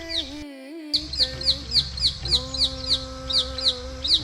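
Many parrots call in Gundalpet, sharp shrill squawks repeating in a quick regular series, close and prominent over a low steady hum, with a tonal drone running underneath.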